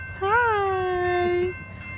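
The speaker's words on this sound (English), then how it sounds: "Waiting for a big train. Here it comes." Vintage steam locomotive 765, built in 1945, passing through Belleville, Michigan, gives a single steady whistle blast of about a second and a half over a low rumble. The whistle comes through clearly at a moderate distance.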